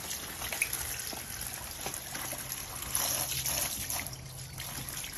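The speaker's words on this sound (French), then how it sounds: "Je commence par les rincer." Garden tomatoes rinsed under running tap water, a soft steady trickle and splash with small irregular drips, close and fairly quiet.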